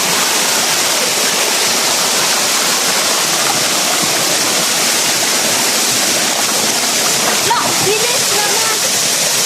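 Ambaktubig waterfall rushing in a constant loud broadband roar, close by and steady throughout, with no break in the flow.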